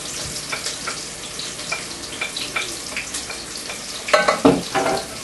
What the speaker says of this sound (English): You add your onion. Good sizzling sound.